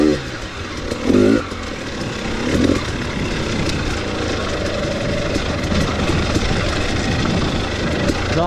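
A 2018 KTM 250 XC-W TPI two-stroke dirt bike idles close by with a steady, even burble. Brief voice-like bursts rise near the start, and the idle holds consistently to the end.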